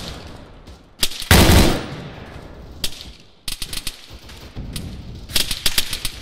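Gunfire in the military shooter Arma 3: loud sharp single shots and rapid machine-gun bursts, close by, breaking out in clusters with brief gaps between volleys.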